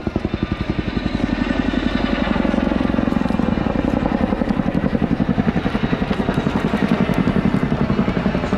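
An RAF Chinook twin-rotor helicopter flying a display at an air show gives off a loud, rapid rhythmic blade thump over a heavy engine roar, sustained and fairly close throughout.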